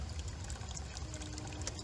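Water pours steadily from a spring pipe jutting out of the ground along an Appalachian Trail section, a continuous close trickle and splash with no talking.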